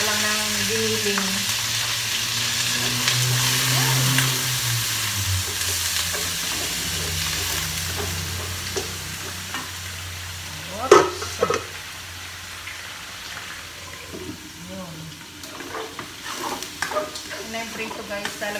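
Food fries and is stirred in a pan at home, a steady sizzle with occasional scrapes and clatters of utensils, moderately loud and fading somewhat later on.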